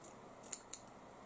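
Scissors snipping orange fabric into a small carrot shape, two quick crisp snips close up and fairly quiet against a faint background hiss.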